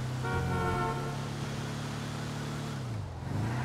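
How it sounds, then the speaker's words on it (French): A car horn honks in GTA 5, a sustained steady toot held for a few seconds at moderate distance, then dropping off, with low traffic rumble underneath. "Ça me klaxonne."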